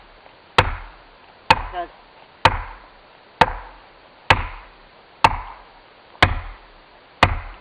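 A felling wedge is driven into the cut of a big tree with eight sharp, ringing hammer blows, struck about once a second at close range, each with a brief woody decay; a voice speaks briefly.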